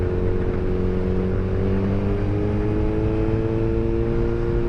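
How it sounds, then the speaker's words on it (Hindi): A Suzuki GSX-R1000R sport motorcycle's smooth, steady exhaust drone with rising harmonic tones as the revs climb gradually, loud and continuous with no talking. "एग्जॉस्ट नोट भी काफ़ी स्मूथ है"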